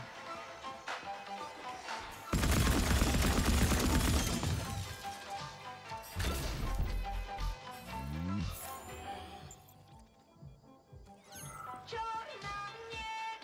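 Heavy weapon fire in the video game Atomic Heart, a loud dense burst lasting about two seconds, followed by further sharp impacts and crashes over game music and effects.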